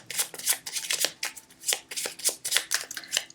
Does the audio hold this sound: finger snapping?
no